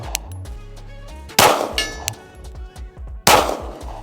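A Glock 9mm pistol fires at a target, two sharp, loud shots about two seconds apart, each ringing with a metallic clang, heard close with no talking.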